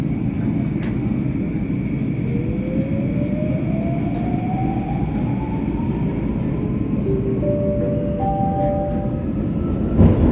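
Singapore MRT subway train running through a deep underground tunnel, a steady loud rumble and roar throughout, with rising motor whine tones and a brief chime-like tone near the end as it approaches a station.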